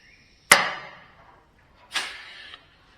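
Pneumatic rivet puller setting rivets on an aircraft interplane strut: two sharp air-driven snaps about a second and a half apart, each trailing into a short hiss, in a quiet workshop without talking.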